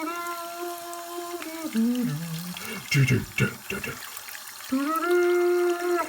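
Water runs steadily from a tap while someone rinses and washes their hair, the flow sounding close and continuous with short breaks as a person talks over it.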